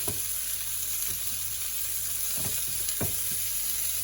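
Sardine frying in a pot, a steady hiss of oil with a few sharper crackles and pops, close and alone without any voices.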